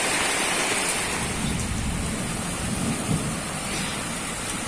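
Heavy summer rain pours down on a sloped garden in Kyiv region, a dense, loud and continuous roar of drops hitting lawns and paths with a low rumbling undertone, no voices.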